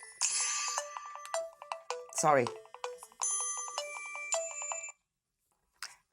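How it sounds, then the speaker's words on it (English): A mobile phone ringtone plays a bright, repeating electronic melody of chiming tones for about five seconds during an interview, then stops, with someone speaking briefly over it. "Oh, it's my phone."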